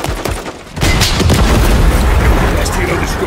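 Heavy gunfire and booming explosions aimed at a helicopter during a Call of Duty: Modern Warfare III campaign battle, a loud continuous barrage of blasts and rattling shots after a brief quieter start.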